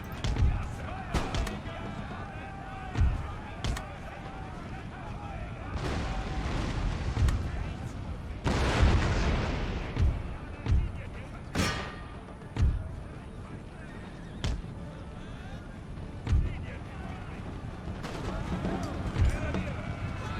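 Cannon artillery fire in the strategy video game Empire: Total War, a series of booming shots and impacts at irregular intervals, some distant and some heavy and close, with someone talking over them.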